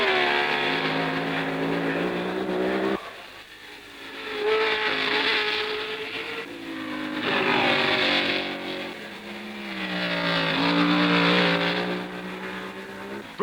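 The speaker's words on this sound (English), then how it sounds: "And here he comes with a 6th Lotus 25." A 1962 Lotus 25 Formula 1 race car engine screams loudly at a French Grand Prix, its high pitch rising and falling through several swells as it passes and changes gear.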